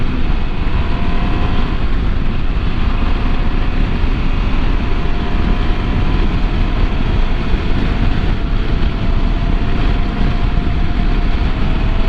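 A KTM 790 Adventure R motorcycle cruising in sixth gear at about 70 mph, its engine drone steady and loud with heavy wind rush throughout and no talk.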